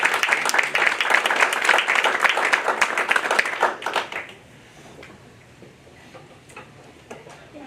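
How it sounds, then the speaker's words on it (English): Audience applause at a small business incubator challenge, with dense, close clapping for about four seconds before it drops off to scattered faint claps and room noise. "How about a little round of applause for a second?"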